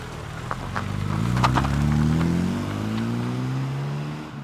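Engine of a 1990 British classic car just after starting, idling with a low, wavering hum that rises and dips slowly, plus a few sharp clicks early on, close by and with no speech.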